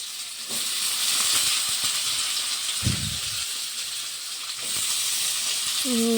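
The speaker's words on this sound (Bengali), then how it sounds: "তারপরে কেটে রাখ কেটে ধুয়ে রাখা আলু আর কুমড়ো দিয়ে দিচ্ছে" Cut, washed potato and pumpkin go into hot tempering oil, giving a loud, continuous sizzling hiss up close, with a brief heavier burst midway and a clatter near the end.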